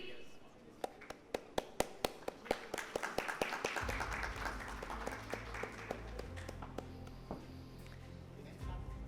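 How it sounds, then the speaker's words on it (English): Audience at a keynote session of a summit applauding: a few sharp, evenly spaced individual claps that swell into a fuller round of applause, then fade under a low rumble. "Round of applause, thank you."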